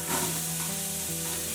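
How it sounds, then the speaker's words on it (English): A large yellow onion dry-sautés in a preheated Instant Pot, a dense, loud, continuous sizzle with a faint electrical hum beneath it, brief and close. "I am going to add 1 large yellow onion to the pot"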